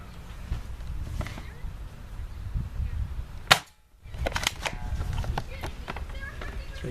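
Airsoft guns fire during an outdoor airsoft war, the shots popping as sharp, scattered cracks, one loud close shot standing out mid-clip, over rustling movement and background noise.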